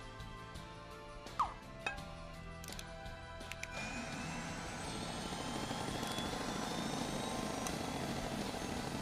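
A helicopter in the video game Scribblenauts Unlimited: a steady whirring rotor drone rises and holds at moderate level after a few faint clicks and a short chirp, with no talking.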